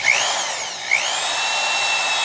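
A high-torque adjustable power screwdriver with a 5-amp motor and triple-reduction gearing whirs steadily at close range, with a brief dip and rise in pitch before settling into a continuous high whine.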